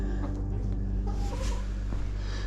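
Chickens clucking nearby amid farmyard background noise, with short, irregular calls over a steady low hum.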